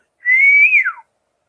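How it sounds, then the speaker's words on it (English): A person whistles one clear, close note of about a second that holds steady and then bends downward, heard alone in silence. "don't whistle in the woods like this."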